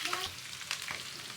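Onion and green chili frying in oil in a frying pan, stirred with a utensil: a steady close sizzle with a couple of brief scraping strokes, no voices.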